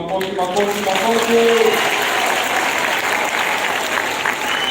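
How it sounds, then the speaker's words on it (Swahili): An audience at a county scholarship award ceremony breaks into sustained applause for nearly five seconds, even and fairly loud, with a voice speaking over the start. "Makofi."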